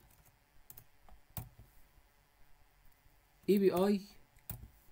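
Light, scattered keystrokes on a computer keyboard, faint and close, with a brief spoken word partway through.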